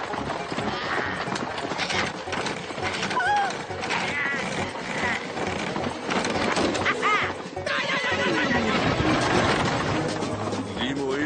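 Horses whinny and neigh several times amid a busy, loud mix of hooves and other noise, with voices mixed in.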